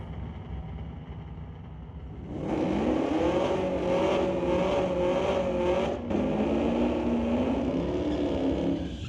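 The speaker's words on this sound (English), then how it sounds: "Launches the car, but kind of dies after the launch, and he's just going to cruise it down the track now." A 2019 Dodge Challenger or Camaro street-legal drag car launches at Mission Raceway Park, its engine surging to a loud rising roar after a quieter idle, then cruising down the track with wavering revs and a brief dip midway.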